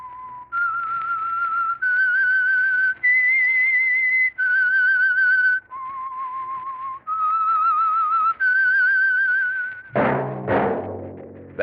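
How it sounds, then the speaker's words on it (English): A clear solo whistle carries a slow melody of sustained held notes as the signal for a radio drama, each pitch steady and near, ending in a sudden burst of different sound. "That whistle is your signal for the Signal Oil Program, The Whistler."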